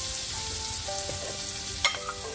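Butter melting and sizzling in a frying pan, a steady fine crackle and hiss close by with a brief clink partway through.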